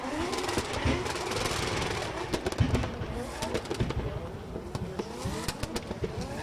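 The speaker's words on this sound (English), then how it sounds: "On and off the throttle, modulating it, trying to work that car out, trying to get it dialed up on that qualifying line." Drift car at the Oman International Drift Championship 2023 qualifying, its engine revving as the throttle is blipped on and off, rising and falling whines with sharp crackles, mixed with a commentator's voice over the racket.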